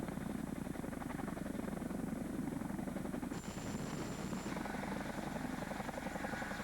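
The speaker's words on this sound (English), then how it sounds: "helos delivered the units and their equipment to" Military helicopters delivering infantry units and equipment during a 1991 field exercise, a steady, throbbing rotor drone that holds at an even level throughout.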